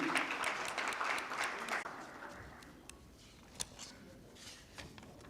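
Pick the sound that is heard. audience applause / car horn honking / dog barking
audience applause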